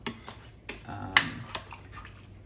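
Oxtails and onions being stirred in a pot give a few close clanks and scrapes of a utensil against the metal, separate knocks spaced over a couple of seconds, with no voice.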